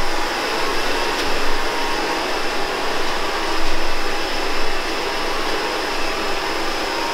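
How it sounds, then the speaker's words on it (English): A hair dryer blows steadily with a loud, continuous airy roar that stays even for several seconds, no talking. "Get a hair dryer."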